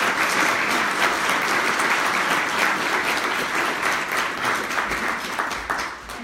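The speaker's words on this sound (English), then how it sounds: "Give Mark a round of applause" Sustained audience applause for a county commission chair candidate at a political forum, dense and steady, loud throughout and easing slightly near the end.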